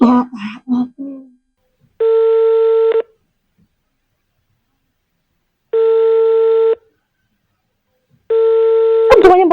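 A telephone line sounds three long, steady electronic tones about a second each, spaced by pauses, after a brief bit of speech at the start, with a sharp click at the end.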